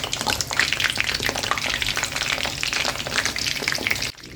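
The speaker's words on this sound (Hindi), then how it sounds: "ये चीज़ी चिकन क्रैब्स अब मैं फ्राई करने लगी हूँ" Cheesy chicken snacks deep frying in hot oil, a dense, close, steady bubbling sizzle with crackling pops that cuts off abruptly near the end.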